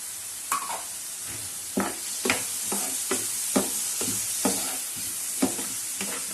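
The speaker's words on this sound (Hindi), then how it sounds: "हल्का से इसको सौते कर लेना" Vegetables with potatoes and peas sauté in a pan under a constant sizzle, with a spatula scraping and stirring in a steady rhythm about every half second.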